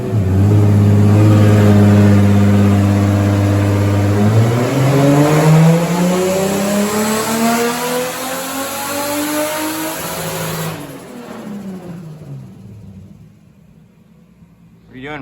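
A Lexus IS300 fitted with an eBay turbo kit revs hard on a dyno, its loud engine note climbing steadily in pitch through a long pull before easing off near the end, with voices talking faintly over it.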